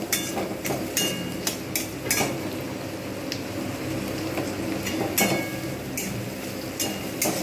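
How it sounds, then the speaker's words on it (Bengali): Onions fry in oil in a pan, reused cooking oil, while a utensil stirs them. Steady sizzling runs throughout under repeated sharp scrapes and clinks of the utensil against the pan. "পেঁয়াজটা লালচে করে ভেজে নিয়েছি"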